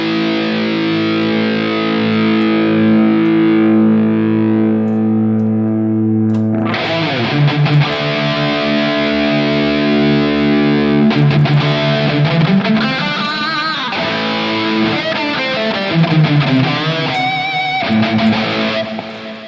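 Electric guitar through a Mesa Mark V amp simulation rings out a sustained distorted chord, then plays a lively series of riffs and bends, loud and thick with gain.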